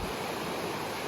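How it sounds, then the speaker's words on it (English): Steady rushing river at a trail crossing, a continuous broadband wash of flowing water close by, even in level with no voices. "There's the river crossing."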